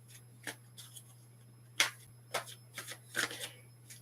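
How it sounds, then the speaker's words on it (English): Playing cards shuffled by hand in several quick riffling bursts, with a sharper flurry near the middle, close and fairly quiet over a steady low hum, no talking. "my beautiful cards, I will give them a shuffle for you"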